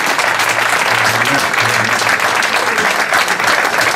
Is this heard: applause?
yes